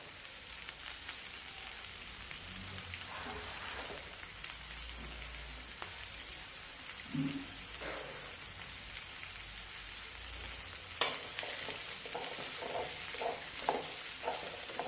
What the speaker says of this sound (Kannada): ಒಂದು ಸ್ವಲ್ಪ ಫ್ರೈ ಆಗಲಿ ಆಮೇಲೆ ಒಂದೊಂದು ಒಂದೊಂದು ಐಟಮ್ ಫ್ರೈ ಮಾಡ್ಕೊಂಡು ಆ್ಯಡ್ ಮಾಡಿದ್ರೆ